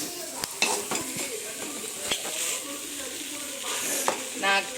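Egg fried rice is stirred in a frying pan with a spatula, giving a continuous close sizzle and several sharp scraping knocks against the pan.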